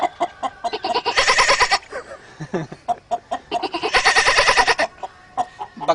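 Goats bleat close by in two long, wavering cries, each broken up by shorter bleats and clucking-like farm-animal noises, with no talking.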